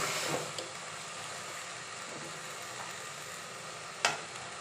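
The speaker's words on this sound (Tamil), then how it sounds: "நல்லா வதக்குங்க வாழைப்பூவை" Chopped banana flower sautéed in a pan for a Tamil-style poriyal gives a steady, soft sizzle and frying hiss throughout, with a couple of brief stirring scrapes, the sharpest near the end.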